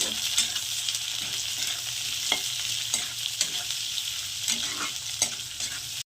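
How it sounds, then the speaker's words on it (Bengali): Steady sizzling of potato and onion frying in a pan, with sharp scraping clicks of a spoon stirring now and then. "এবার দিয়ে দিচ্ছি একটা বড় সাইজের আলু আলুটা তো পেঁয়াজের সঙ্গে ভেজে নেব"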